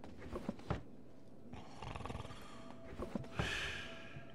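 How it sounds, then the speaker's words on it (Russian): A guard snoring in the stealth video game Thief gives slow, rough, roaring breaths from fairly near, rising and falling over a few seconds against low game ambience. "Ну, храпит он знатно."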